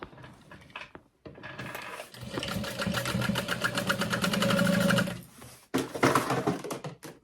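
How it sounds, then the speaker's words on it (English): Sewing machine stitching a chevron add-on shut, with a long steady run of rapid needle strokes after a brief pause, then another burst of stitching near the end; close and fairly loud, no talking. "I'm going to sew this shut and add a woven label."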